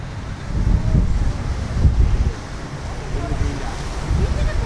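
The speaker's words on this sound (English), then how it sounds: "Man, that wind is vicious right now." Strong, gusty wind buffets the microphone outdoors at Kennedy Space Center in Florida, a constant low roar with surges that swell and ease across the whole stretch.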